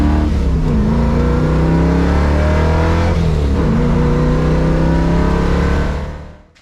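A Camaro V8 with an MSD Pro Billet distributor idles and revs loudly close by, its steady rumble rising and falling in pitch before cutting off at the end, with no talking.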